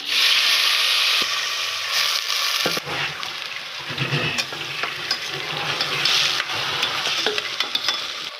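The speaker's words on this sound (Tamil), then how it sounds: "கடுகு நல்லா வெடிச்சிச்சு கொஞ்சமாக மஞ்சத்தூள் போட்டுக்கலாம் கருவேப்பிலையும் போட்டுக்கலாம் வந்து நம்ம அதிலே வதக்கிடலாம்" Mustard seeds, turmeric and curry leaves sauté in hot oil with a loud, bright hiss that surges at first and then settles. Stirring scrapes and small pops sound close up, and no one speaks.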